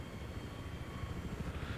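Steady low rotor thrum of a helicopter in the video game Battlefield 3, a faint, even engine drone held throughout with no voices.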